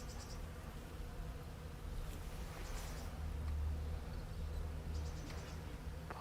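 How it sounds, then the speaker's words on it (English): Hundreds of bees buzz in an early blooming cherry tree in Tokyo, a soft continuous drone that stays faint and distant, with occasional brief high chirps over it. "tree is buzzing with bees"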